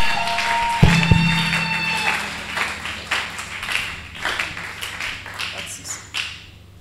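Church congregation applauding during a seminar service, a burst of clapping and taps rising after a struck tone, then tapering into scattered claps with faint crowd voices.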